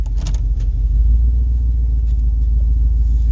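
A four-wheel drive vehicle's engine idles steadily at close range, a deep continuous rumble with no revving, alone without any talk.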